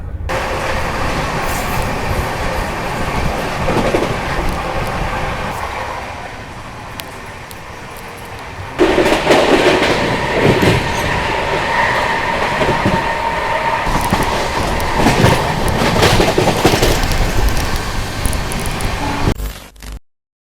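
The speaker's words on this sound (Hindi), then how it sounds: "ये खड़ी Magadh express, overtaking Magadh express है टूंडला जंक्शन" Howrah Rajdhani Express rolling at speed past the stationary Magadh Express at Tundla Junction, a loud steady rumble and rattle of rail running throughout, growing denser midway and cutting off abruptly at the end.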